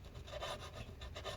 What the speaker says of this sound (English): We're just scraping up all this adhesive.